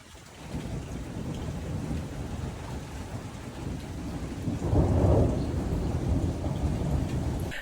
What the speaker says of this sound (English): and then we had this huge storm